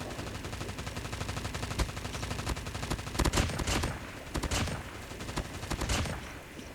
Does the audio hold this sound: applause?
no